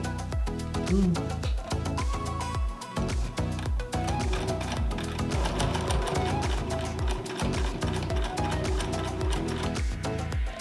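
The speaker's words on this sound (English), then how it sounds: "I'm sewing it too." A sewing machine stitching a homemade DIY face mask runs in a steady, fast mechanical rattle throughout, fairly close and continuous with no talk over it.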